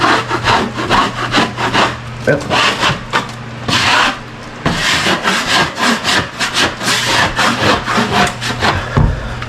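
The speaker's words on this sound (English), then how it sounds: "get you a knife like that, and then just scrape it off" A knife blade scrapes sprayed-on material off a surface during remodeling work, making loud, close, continuous rasping strokes in a steady back-and-forth rhythm with a brief pause partway through.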